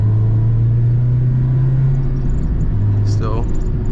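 Acura RSX Type S engine held near 4,000 RPM while driving, a loud steady droning hum with road rumble, the note dipping slightly late; a person talks over it.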